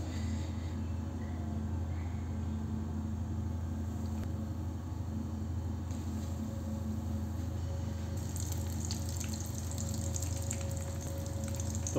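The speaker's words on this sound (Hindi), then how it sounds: "अब हम इनको डालेंगे ऑयल में और इनको करेंगे ऑयल में फ्राई।" Breaded cheesy potato rolls fry in hot oil with a continuous soft sizzle and bubbling, steady at moderate level with a brighter crackle rising near the end.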